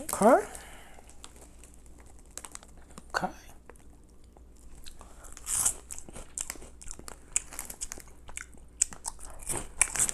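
Someone bites and crunches a Ukrainian cheese-puff-like snack close to the mic, with scattered crisp chews and bag crinkles and a few soft vocal sounds.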